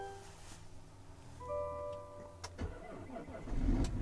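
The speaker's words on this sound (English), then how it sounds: "a 35 below cold start test of the Escalade's 3-liter Duramax straight-six engine" A Cadillac Escalade's 3-liter Duramax straight-six diesel cranks briefly with a rough clatter at 35 below zero, then catches and runs unevenly, loud and close, with a faint tick in the background.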